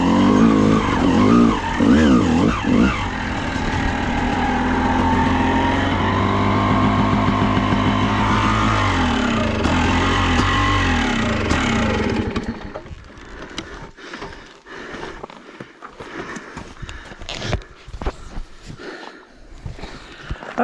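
A motorcycle riding down a dirt trail produces a loud, whining engine note that rises and falls for about twelve seconds, then drops to a rougher, quieter rumble with intermittent bumps.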